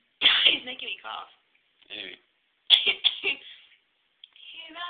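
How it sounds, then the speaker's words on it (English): A man coughs a few times in short bursts amid speech-like sounds during a quiet home acoustic guitar cover performance, the coughs close and fairly loud between pauses of silence. "He's making me cough."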